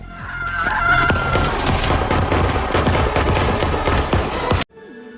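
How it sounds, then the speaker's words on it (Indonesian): A loud, rapid burst of repeated gunshots fired again and again in a violent scene from the horror film Scream 7. The fire runs continuously for several seconds, then cuts off abruptly. "ibu dan anak ini menembak Jessica berkali-kali tepat di kepalanya"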